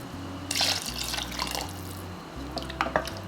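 Water added to a pot of cooking potato pieces in a home kitchen, a brief splashing pour with a few drips and a steady low hum, no talk.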